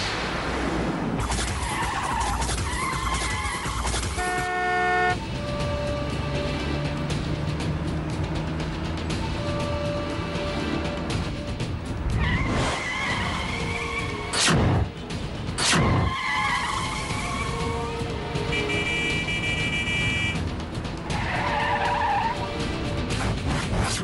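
A car speeds up and skids hard in a Tamil TV drama scene, with loud repeated tyre screeches over a roaring engine.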